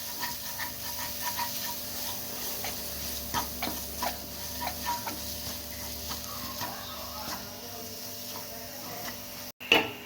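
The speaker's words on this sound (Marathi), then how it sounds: "अर्धा चमचा कश्मीरी लाल मिरची टाकलेली आहे आणि व्यवस्थित आपण हे हलवून घ्यायचं आहे" Spicy mutton sukka masala with Kashmiri red chilli is stirred in a pan, giving soft intermittent scraping taps over a low sizzle, close but quiet, with a sharp clatter at the end.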